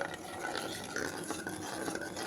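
A thick milk and cheese paste is stirred continuously in a pan, giving a steady close scraping and rubbing texture with no pauses.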